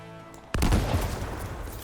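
A heavy marksman rifle fires once in the Anthem video game, a sudden loud broadband blast followed by a long rumbling boom and tail, with no voices.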